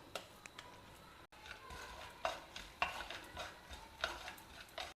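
Peanuts and green chillies being fried together in a pan, heard as quiet, repeated scraping stirs against the pan over a faint sizzle, with no talking.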